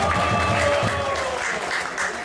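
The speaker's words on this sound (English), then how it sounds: "Let's give a round of applause for him also and his family." A temple crowd applauds for a sponsoring family at a festival, steady dense clapping that stays fairly loud throughout, with a few sustained tones threading through it.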